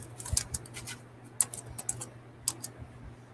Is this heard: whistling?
no